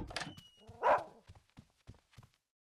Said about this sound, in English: What is the dog barking at then?